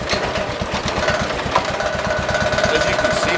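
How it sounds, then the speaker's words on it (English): A warmed-up riding lawnmower engine runs steadily at idle, with a loud, fast, even chugging pulse that continues with no talk over it. "I've let the engine warm up for a while."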